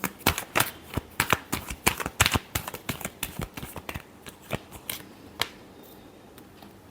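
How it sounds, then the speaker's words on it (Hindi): Tarot cards are shuffled close up in quick, crisp riffling bursts that come densely at first, then thin out into scattered soft flicks and taps. "Last shuffle."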